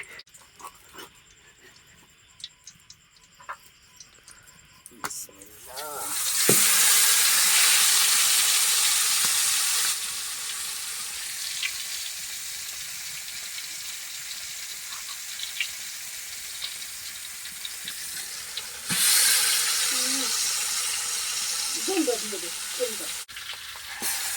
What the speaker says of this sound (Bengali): এখন সেই মাছটাকে এখন দিয়ে দেওয়া হবে এই গরম কড়াইতে।